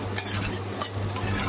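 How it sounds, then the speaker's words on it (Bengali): Egg and potato frying together with green chillies in a pan, a steady close sizzle overlaid by rhythmic scraping stir strokes of a spatula roughly every half second, with a low hum underneath. "ডিম আলু একসাথে করে দিয়েছি, কাঁচা লঙ্কা দিয়ে ভাজা হচ্ছে"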